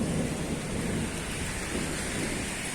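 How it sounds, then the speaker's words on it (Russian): Heavy rain pours in a steady, dense hiss during a thunderstorm, with low rumbling beneath it and no voices. "Дождь идет. Гроза."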